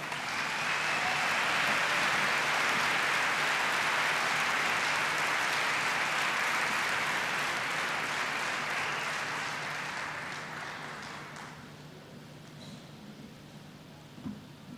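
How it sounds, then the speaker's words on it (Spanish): A church congregation at a Latin evangelical gathering in Rome gives a loud, sustained round of applause to welcome a preacher, a thick roar of many hands that holds for about ten seconds, then fades away. "vamos a recibirlo con fuerte aplauso"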